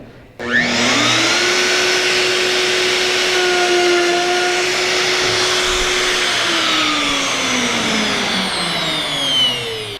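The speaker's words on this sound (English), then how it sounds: "I just mounted a 3/4 inch router bit, and I'm going to set the proper depth and plunge in." Router fitted with a 3/4 inch bit starts up and plunges into a wooden board, a loud steady high whine that holds near and dips slightly in pitch as it cuts, with no talk.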